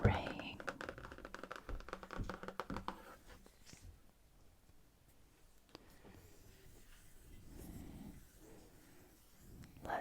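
Pages of a shiny coated hardcover book on ships and sailing being turned and handled up close, giving soft crinkly rustles and brisk papery flutters, busiest at the start and again near the end, with quieter gentle handling between.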